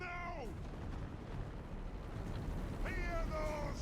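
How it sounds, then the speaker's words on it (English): Dwarf cannons firing in the Warhammer 2: Total War video game, a sustained roar of battle fire and rumbling under a noisy mix, with short whistling sweeps at the start and end. "Hear those cannons roar!"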